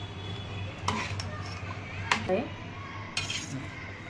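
A spoon clinks and scrapes in a bowl as pomegranate seeds and fruit are mixed into cold custard, a few light metallic taps over a low background hum, close and fairly soft.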